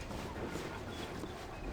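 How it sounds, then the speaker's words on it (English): Wind blows through a dark ambience in the game Baldur's Gate 2, a faint, low, steady rush with a soft hollow drone that holds even throughout, no voices. "Looking over the side shows only a dark, windy void that descends endlessly below."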